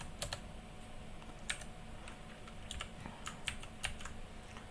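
Typing on a computer keyboard, entering region names for a network diagram: light, irregular key clicks in short clusters, close and fairly quiet over a faint steady background hum, with no talking.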